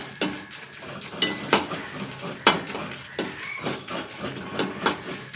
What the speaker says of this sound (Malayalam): ഒരു അഞ്ച് വറ്റലമുളക് ഇട്ടേട്ടാ വറുക്കട്ടെ